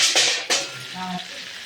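Boiled plantain pieces sauté with potato in a pan, a loud sizzling burst as they land, then a softer hiss with a brief clatter of stirring close by.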